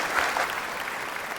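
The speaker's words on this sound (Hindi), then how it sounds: "एक बार फिर से जोरदार ताली में स्वागत कर दीजिए" Audience applause at a live comedy show, a dense, steady wash of clapping filling the whole moment at moderate loudness with no voices over it.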